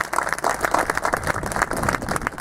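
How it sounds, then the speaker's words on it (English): A brief round of applause for Jack Miller, a dense, steady patter of many hands clapping together from a small audience at close range, with no talk over it. "Let's give Jack a round of applause."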